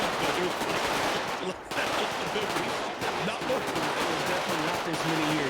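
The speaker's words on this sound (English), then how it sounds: "Well, they're firing guns." Dense, continuous video game gunfire with rapid machine-gun bursts and overlapping shots, loud and unbroken throughout a battle scene.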